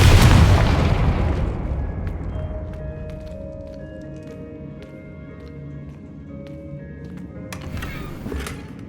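A Confringo fire spell from Hogwarts Legacy bursts in a heavy, booming explosion at the start, its rumble slowly fading over several seconds beneath ambient game sounds, with scattered faint clicks and a brighter flare near the end.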